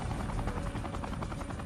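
A Sikorsky UH-60 Black Hawk helicopter roars continuously with a dense, rapid rotor chop, loud and close, with no voices over it.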